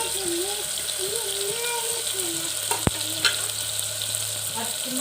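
Finely chopped onions sizzle steadily in hot oil in a pan, with occasional stirring clatter and a sharp knock partway through, close and continuous while a voice talks over it.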